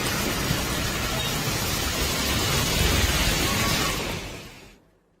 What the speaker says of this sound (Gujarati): ગોંડલ પંથકમાં શહેર તેમજ ગ્રામ્ય પંથકમાં વરસાદી ઝાપટા પડ્યા અને કેટલીક જગ્યાએ ધોધમાર વરસાદ વરસી રહ્યો છે